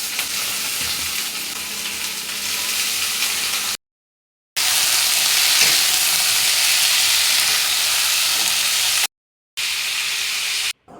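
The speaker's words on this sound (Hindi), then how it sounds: "यहाँ बीन्स की सब्ज़ी मैंने काट दी थी, आलू और बीन्स का, तो उसमें थोड़ा सा प्याज दे के हल्का मसाला दे के ही बनाना है।" Potatoes and beans frying with onion and light spices in a pan, a steady close sizzle and hiss that runs continuously, cut off by two brief silent gaps, with no talking.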